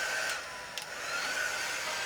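A hair dryer blows steadily on wet paint on a canvas, a loud, close, continuous whooshing hum with a faint high whine and no talking.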